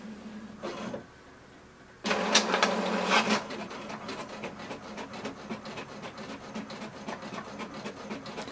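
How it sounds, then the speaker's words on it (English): An HP Deskjet 2700 printer prints a page: a low hum gives way to a brief pause, then a louder mechanical whir with rapid ticking and rattling, settling into steady, moderate feed noise. "click on the print icon button and wait for the printer to print"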